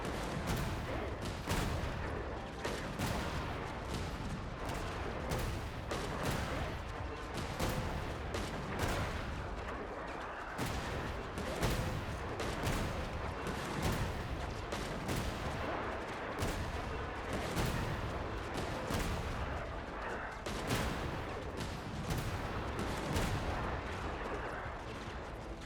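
A big cannon fires in a video game battle: repeated heavy booming blasts land in steady succession amid continuous gunfire and dense battle noise for the whole stretch.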